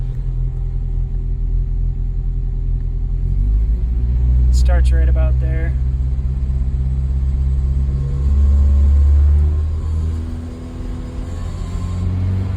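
A 1980 Volvo 242 engine idles with a low rumble, then is revved so a deep droning resonance swells and fades twice, close and loud, while someone talks briefly over it.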